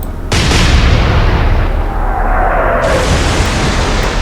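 Warship artillery booms in the Atlantic Fleet naval game: a sudden loud blast breaks in after a brief quiet, followed by a sustained rumbling roar and a shrill whistling tone in the middle.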